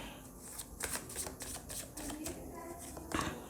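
Tarot cards are shuffled by hand in a quiet room, a rapid series of soft papery flicks and riffles with small pauses, faint and close.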